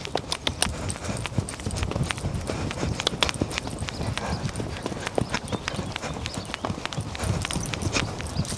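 Hooves clip-clop in a quick, steady rhythm as a horse is ridden bareback, close and continuous, with a voice briefly audible.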